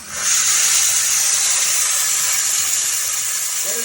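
Outspurge handheld pressurized steam cleaner releasing a continuous loud hiss of steam spray for several seconds, steady and close, with no talk over it.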